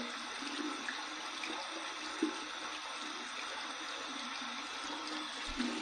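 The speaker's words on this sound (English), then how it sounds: "I'm gonna run this under some cold water here." Cold tap water runs steadily over an alum block, a constant close splashing hiss with a few small clinks and no speech.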